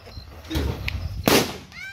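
A single sharp firecracker bang bursts out close by during a São João festival celebration after some background rustling, followed by a faint whistling tone.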